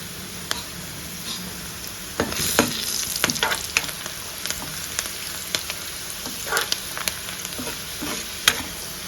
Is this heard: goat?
no